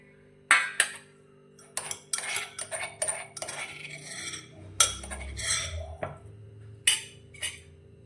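Crushed garlic and ginger scraped and tapped from a stone mortar onto a plate, giving a string of sharp metallic clinks and short scrapes spread unevenly over several seconds, close and clear with no talking.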